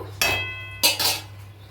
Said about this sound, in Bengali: এবারে ঢাকনা চাপা দিয়ে দেব